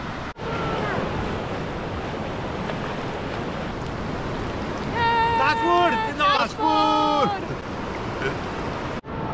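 Ocean waves wash steadily on Tajpur sea beach, a continuous broad surf roar with wind buffeting the microphone, while a voice and some chirping tones cut in briefly near the middle.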